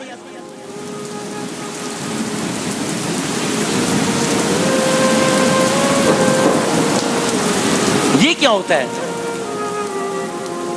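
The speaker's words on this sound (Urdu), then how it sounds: "یہی بادل برس جاتے ہیں, بارش ہو جاتی ہے" Heavy rain pours steadily in a sound-effect thunderstorm, with a deep thunder rumble swelling and cracking near the end, and someone speaking briefly over it.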